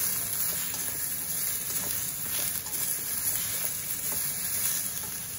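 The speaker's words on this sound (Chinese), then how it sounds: "现在就把这个豆角放进去爆炒。" Green beans stir-fried in hot oil with garlic and scallion in a home wok, giving a steady loud sizzle with faint stirring scrapes, no talk.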